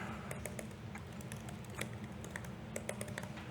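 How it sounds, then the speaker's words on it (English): Quiet typing on a computer keyboard, a rapid irregular run of light key clicks over a low steady hum, without any talking. "So as I'm typing on the left"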